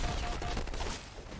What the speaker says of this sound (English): All these explosions and shit.